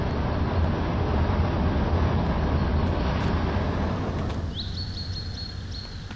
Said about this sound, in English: Sounds like a car going by.